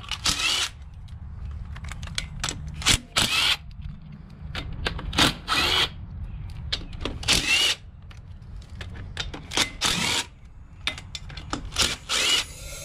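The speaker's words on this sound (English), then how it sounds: "take these off with an impact" An impact wrench removes the hubcap bolts on a truck axle fitted with a Hendrickson Tiremaax Pro tire inflation system, firing in many short, loud, close bursts separated by brief pauses.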